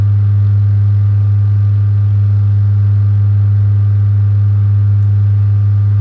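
Aircraft engine in Microsoft Flight Simulator 2020, a steady droning hum with a strong low tone held evenly throughout, loud and unbroken with no talking over it.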